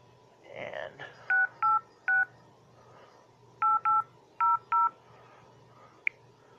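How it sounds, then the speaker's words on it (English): Telephone keypad tones as a phone number is dialed, a series of short, clean beeps in uneven groups of three and four, close and clear after a brief bit of talking at the start. "And then you just dial the regular number."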